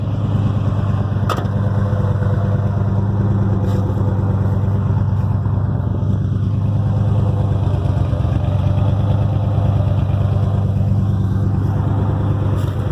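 Ford Bronco engine idling with an exhaust leak, a loud steady low rumble with a constant throbbing tone and a faint ticking layer running unbroken throughout, no voices.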